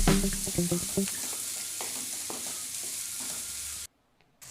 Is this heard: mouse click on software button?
no